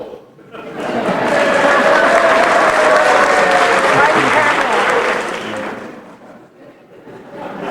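Comedy-festival audience giving a brief, dutiful mercy clap, applause swelling quickly, holding full for several seconds with a few chuckles, then fading out near the end.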